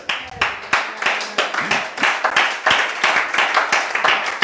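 A church congregation claps and applauds steadily during a worship service, a dense, even run of hand claps with a regular rhythm, loud and close, with no speech over it.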